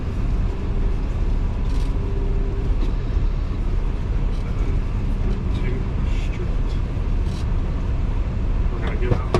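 A 2024 Freightliner truck engine idles while building air pressure, giving a steady, loud, even diesel rumble that continues without a break from start to finish, with a voice speaking over it.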